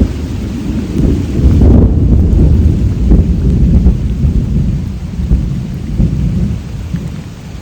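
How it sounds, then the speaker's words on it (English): Thunder rumbles loud and long through a heavy tropical rainstorm in Costa Rica, with a strong roll early on and further low rumbling over steady pouring rain. "It's been thundering the whole time."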